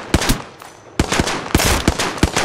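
Gunfire in a squad shooter game, heard as loud, close bursts of rapid shots in quick clusters with brief gaps between them.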